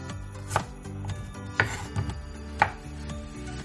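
A knife chops through onions on a cutting board in a few sharp, irregular knocks, close and fairly quiet, with no voices.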